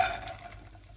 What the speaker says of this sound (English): Oh, can you hear that sizzling?